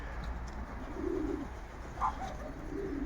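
Young racing pigeons cooing in an outdoor loft, soft low coos repeating over steady background noise, with a brief higher call midway and no one speaking.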